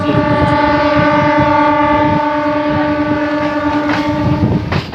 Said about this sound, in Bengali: আর এখন ট্রেনে উঠে পড়েছি দেখো আমাদের ট্রেন কোলাহাট যাওয়ার জন্য